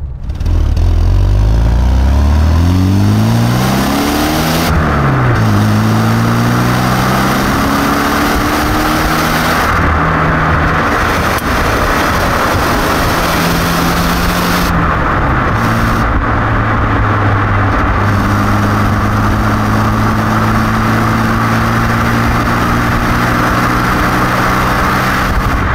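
Radford De Ville classic Mini recreation driving on the road, its small engine droning loud and steady throughout, the pitch rising and falling as it accelerates and shifts through the gears.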